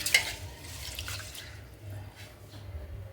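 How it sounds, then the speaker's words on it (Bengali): Rice is washed by hand in water in a home kitchen, with soft sloshing, trickling and dripping sounds that come in quiet, irregular bursts. "চাল ধুচ্ছি দেখো।"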